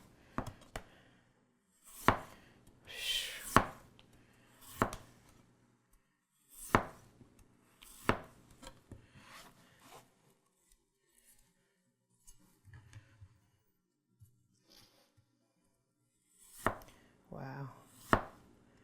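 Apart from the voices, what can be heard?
custom Sabol Brothers knife slicing potato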